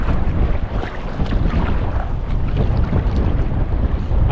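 Strong, steady wind buffeting the microphone while wild camping in the Scottish wilderness, a continuous low roaring rush with no break and no voices.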